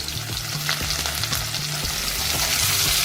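Finely chopped onion sizzles in hot oil with garlic and curry leaves for a traditional colocasia-leaf amti, a steady loud frying hiss with scattered stirring clicks throughout.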